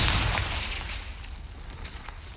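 A Confringo fire-blast spell in the Hogwarts Legacy video game bursts with a loud, booming explosion at the start, then a rumbling roar slowly fades away under a steady crackle.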